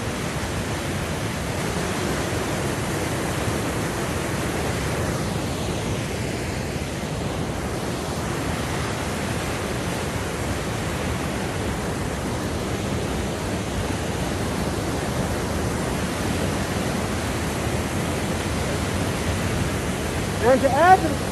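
A waterfall pours down a cliff in the Olympic Mountains, giving a steady, dense roar of rushing water that holds unbroken and fairly loud throughout, with no voices.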